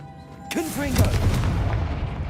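A Confringo blasting spell goes off in Hogwarts Legacy: a sharp whooshing cast, then a deep, rumbling blast that lingers and rolls on for over a second, with a faint voice near the start.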